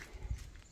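A stallion's hooves clip-clopping, a couple of dull, soft thuds close by against a faint background, brief and without voices.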